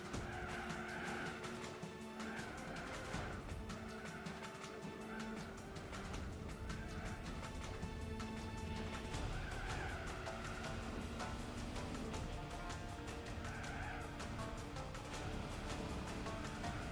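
Car tyres skid and squeal on the Nordschleife in Gran Turismo 4, over a continuous loud engine drone that lasts throughout with no talking.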